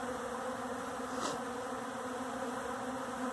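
Honey bees in Austin, Texas, feeding on Pillsbury flour fill the air with a steady, dense buzz that holds without pause, close and even in loudness.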